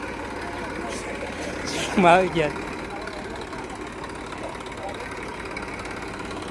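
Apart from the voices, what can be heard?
tractor engine running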